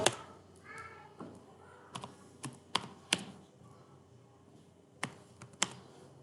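Computer keyboard typing with a handful of sharp, separate key clicks spaced irregularly across a quiet room, near and moderately loud.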